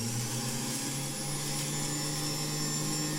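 A Homend 2705 juicer runs on speed two while juicing hard apples, giving a steady, loud electric motor whine with a constant hum and no talk over it.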